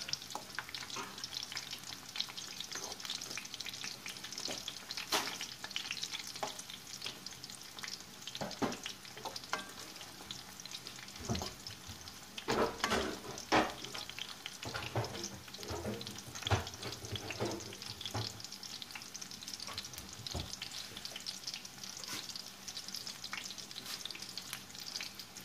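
Cauliflower fries in a pan without oil while being stirred, a steady close sizzle broken by scraping and clattering from the utensil at irregular intervals.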